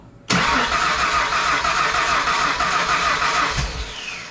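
A 1997 Ford Mustang engine under rebuild cranks and catches abruptly, then roars loud and close in a steady, rough run for several seconds before easing slightly.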